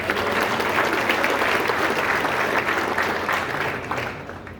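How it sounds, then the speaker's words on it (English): Audience at a military conference panel event gives a round of applause, dense steady clapping from a large room that holds evenly and tapers off toward the end, with no talking. "Let's give them a round of applause"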